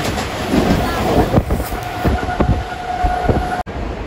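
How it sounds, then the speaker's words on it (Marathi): Trains at Kopar Khairane railway station make a loud rumble with clattering wheel beats and a sustained tonal whine, heard close by. "आम्ही आलो आहोत आता कोपरखैरणे आमच्या गावाच्या रेल्वे स्टेशनमध्ये."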